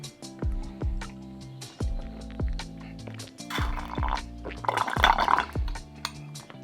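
A Nutrilite drink is sipped through a metal straw from a glass: sharp metallic clinks against the glass come in a loose rhythm, with two short bursts of wet slurping, close and fairly quiet.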